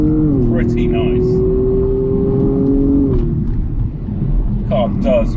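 A BMW M135i drives and accelerates, its engine drone climbing in pitch, holding, then dropping with a gear change, heard from inside the cabin with a low road rumble and brief chimes or talk-like sounds over it.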